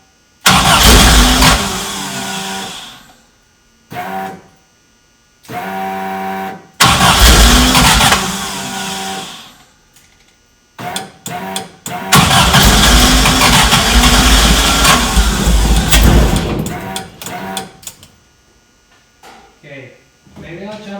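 VW Bus fitted with a swapped-in Subaru engine, the engine repeatedly cranking, catching and running in loud rumbling bursts with pauses between them, close up.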